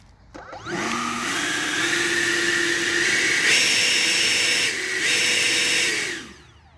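A small model jet turbine engine in a model F-100 Super Sabre whines up quickly from a starter buzz into a loud, steady high-pitched roar, holds briefly with slight pitch shifts, then spools down.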